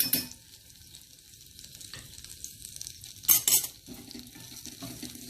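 Garlic sautéing in butter in a pan, a soft close sizzle broken by brief stirring scrapes and one louder clatter of utensil on pan.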